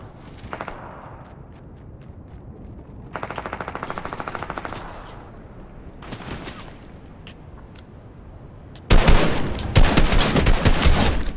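Gunfire in the Fortnite battle royale, with bursts of rapid automatic fire spaced over several seconds, some distant and some close, ending in a loud, dense volley.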